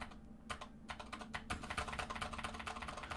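Rapid, irregular keystrokes on a computer keyboard, heard close and on their own, with a brief pause early before the typing picks up again continuously.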